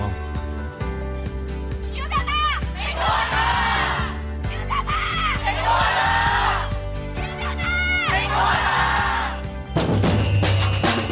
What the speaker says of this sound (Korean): 흥겨운 북소리에 맞춰서 기분 좋게 행진하는 이 청소년들은 기후위기를 걱정하는 여러분들의 친구들입니다